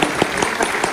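Audience applause in an Indonesian podcast studio in Samarinda Seberang, a dense steady patter of clapping that runs evenly through the whole moment without pause.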